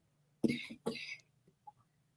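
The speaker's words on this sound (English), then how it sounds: "Start coughing." Two short, harsh coughs in quick succession, close by, followed by a faint throat sound in otherwise quiet surroundings.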